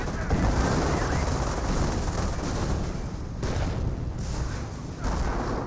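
Dense, sustained gunfire and explosions from the World War II strategy game Company of Heroes, a loud continuous roar of shots and booms with brief dips, and no talking.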